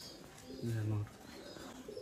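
A single soft coo from a tumbler pigeon of the Rajshahi kingfisher-coloured flying breed, close by and brief, rising over a faint background hum with low murmuring around it.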